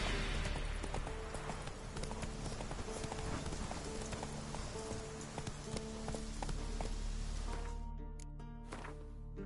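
Horse hooves galloping in The Witcher, a steady rapid clip-clop rhythm that holds close and clear for most of the clip before thinning out near the end.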